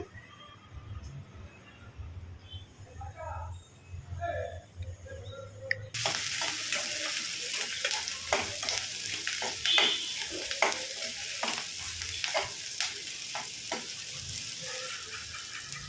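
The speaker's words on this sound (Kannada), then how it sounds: "ಈಗ ಇದಕ್ಕೆ ಒಂದು ಐದಾರು ಒಣಮೆಣ್ಸಿನ್ಕಾಯಿ ಹಾಕೋತಾ ಇದ್ದೀನಿ ನೋಡಿ ಹಾಗೆ ಒಂದು ಅರ್ಧ ಟೀ ಸ್ಪೂನ್ ಜೀರಿಗೆ ಹಾಕ್ಕೊಂಡು ಚೆನ್ನಾಗಿ ಫ್ರೈ ಮಾಡ್ಕೊಳ್ಳಿ" Dried red chillies and cumin seeds hit hot oil with a sudden loud sizzle that keeps crackling steadily, broken by stirring taps, after a quieter stretch of clinking and handling.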